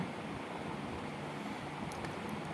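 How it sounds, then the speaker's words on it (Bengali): Water is poured into a simmering prawn curry with potatoes and pointed gourd, a soft, continuous rushing splash that stays faint and even throughout, with no voices. "দেখো পরিমাণ মতো জল দিয়ে দিলাম আমার"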